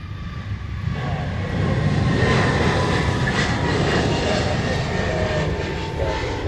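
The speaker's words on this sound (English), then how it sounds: "that KC-135 is coming in to 8 left" A KC-135 military aircraft on approach to land, its engine roar steady and loud throughout, a broad rumble that swells slightly partway through.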